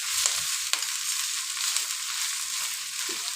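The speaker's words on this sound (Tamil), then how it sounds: "நம்ம இந்த மாதிரி கரண்டியை வச்சு நல்லா மிக்ஸ் பண்ணிக்கலாம்." Chilli bajji milagai gravy is mixed with a ladle in a hot pan, giving a constant bright sizzling hiss with a few soft scrapes and taps of the ladle.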